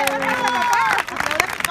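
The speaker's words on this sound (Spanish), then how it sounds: "te van a despedir con un fuertísimo aplauso." Audience applause at a live clown show bursts in after a moment of tonal, voice-like sound, a dense spread of clapping with a crowd murmur that stays fairly loud to the end.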